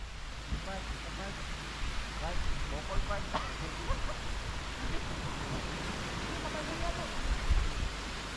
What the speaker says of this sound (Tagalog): Okay, malakas ang tubig dyan.